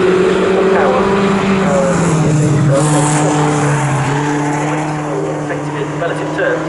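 Racing cars in the Yokohama Mazda series roar down the long Snetterton straight, a loud continuous engine drone with shifting pitch, under steady race commentary.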